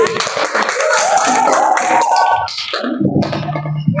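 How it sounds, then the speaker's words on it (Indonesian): Classroom applause for a student presenter, with dense, loud clapping from a group of students mixed with chatter and voices, fading toward the end as talk takes over. "silakan kasih tepuk tangan"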